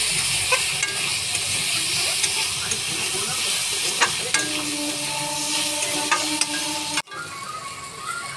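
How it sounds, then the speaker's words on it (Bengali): Potatoes frying in a pan with salt and turmeric give a steady, close sizzle and hiss with a few soft clicks and stirring scrapes, then the sound drops away abruptly near the end. "আমার আলুটা ভাজা হয়ে গেছে"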